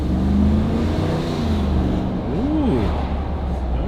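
A 2023 Jeep Grand Wagoneer's engine pulls steadily in sport mode as heard from inside the cabin, a continuous low drone that rises in pitch briefly near the end, loud and constant throughout.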